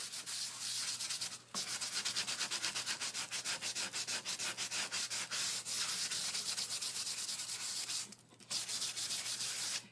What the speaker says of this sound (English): So we're really just going to sand here.